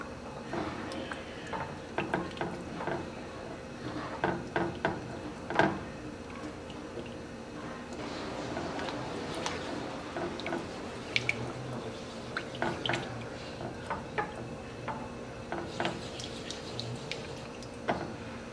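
Sour cream being stirred into a beef stroganoff sauce, giving soft wet squishing and dripping sounds with occasional clicks of a utensil, fairly quiet and continuous with no talking.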